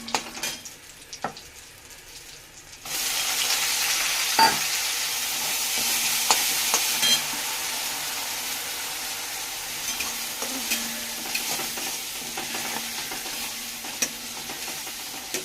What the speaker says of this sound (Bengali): এই যে কড়াইতে পেঁয়াজ ভাজা দিয়ে দিয়েছি